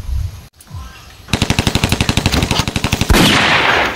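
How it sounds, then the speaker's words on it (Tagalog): Rapid machine-gun gunfire played from a radio, a steady run of sharp evenly spaced bursts that swells into a louder, denser roar of shots near the end, following a brief dip of quieter sound at the start. "May nagaputukan dito sa radyo!"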